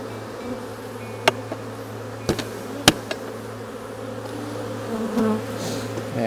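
Honeybees buzz around an open hive in a steady, dense drone close by, with a few sharp knocks and clicks breaking through now and then.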